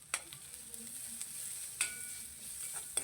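Amaranth leaves and green chili sauté in a clay pot, a soft, continuous sizzle broken by a few sharp scrapes and clacks of stirring, alone and fairly quiet.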